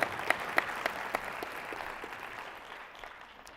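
A single audience member claps at a life insurance keynote, a handful of sharp, separate claps at the start that fade into faint room murmur.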